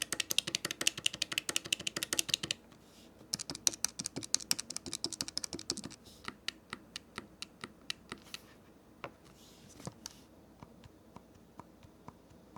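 Buttons on a Retroid Pocket 5 handheld gaming device being pressed rapidly, a dense run of close, sharp plastic clicks, then sparser separate clicks after a short pause, with no talking.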